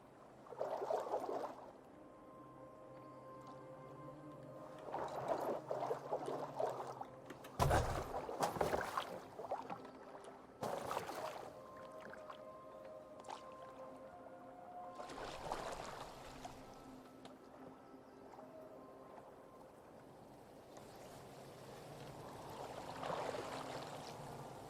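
A boat glides over water in Assassin's Creed Valhalla, with a steady wash and splashing that swells in several louder surges over a soft musical bed, with no talking.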